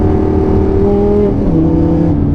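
A 2011 Lamborghini Gallardo Superleggera LP 570-4 engine revs loud and close and climbs in pitch. Its note drops sharply at each quick gear shift, then climbs again.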